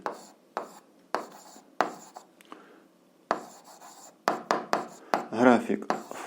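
Hand writing on a board or paper while a math exercise is worked through, with repeated short scratchy strokes in bursts between moments of quiet, close by and moderately loud, with speech at times.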